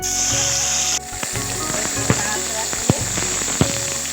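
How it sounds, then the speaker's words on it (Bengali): Tomatoes fry in oil in a wok, with a steady dense sizzle for the first second that then settles into a softer crackle, broken by a few sharp pops and spits. "এবার কড়াইতে তেল দিচ্ছি, টমেটো কেটে রেখেছি, এবার এতে দিয়ে দেবো"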